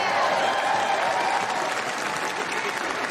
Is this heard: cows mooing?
no